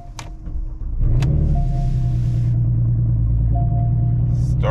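A Porsche Cayenne Platinum with about 56,000 miles, bought salvaged, cranks briefly and starts, then settles into a steady low idle with a faint electrical whine above it, heard up close.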